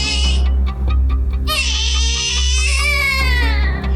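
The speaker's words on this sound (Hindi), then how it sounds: "रात को 10 बजे पड़ोसियों ने एक छोटे बच्चे की रोने की आवाज सुनी" A small child cries loudly and continuously in a staged crime drama scene, wailing in rising sobs and breaks over a steady low hum, with no talking.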